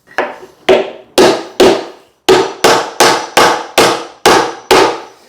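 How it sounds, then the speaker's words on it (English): A hammer striking a staircase string joint during fitting of a double winder staircase, about ten sharp, loud taps at a fairly regular rhythm, each ringing briefly before the next, with no talking. "I'm going to start giving it a little tap, and we're going to watch the joint come up here"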